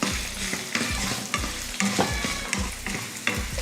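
Amla, dried chillies and garlic fry in a pan while being stirred: a steady sizzle runs underneath repeated scraping strokes of a spoon against the pan, close and fairly loud, with no voices.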